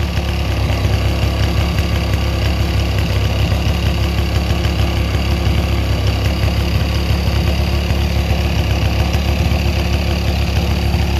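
EME120 gas aircraft engine fitted with JMB Brecka canisters and headers, idling with a steady, loud, rapid low chug and buzzing exhaust pulses, continuous and close with no talk.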